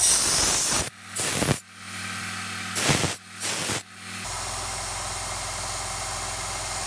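A kitchen knife is sharpened on 80-grit abrasive. About four loud, rasping grinding passes come in quick bursts over a motor drone, then the steady hum continues alone.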